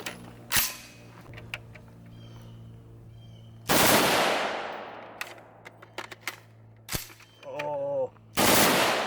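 Bursts of rapid gunfire from a 5.56 Swiss 550 AK-style rifle fed from a coupled magazine, loud close shots with echoing tails, a few separate volleys broken by metallic reload clicks and quiet gaps.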